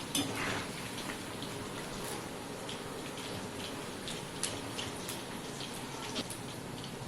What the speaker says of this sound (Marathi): क्रिस्पी होईपर्यंत तळायचे